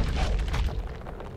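A grenade detonates in Bastion, with a dense low boom and rumbling debris that fill the short moment at steady, heavy loudness.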